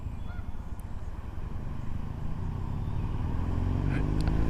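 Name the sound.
Harley-Davidson motorcycle passing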